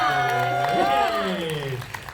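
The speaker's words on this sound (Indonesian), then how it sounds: "Ini Kak Widi boleh tepuk tangan lo Kak Widi" Applause and some cheering from the audience at a press conference for the horror film Iblis Dalam Kandungan 2, the clapping running underneath voices that ring out loudly over it.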